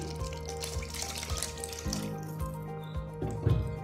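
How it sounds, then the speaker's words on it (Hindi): A glass of water poured into a pan of browned beef kofta curry, a short splashing pour over a low sizzle, heard up close without any talking. "अब इसमें 1 गिलास पानी डालेंगे"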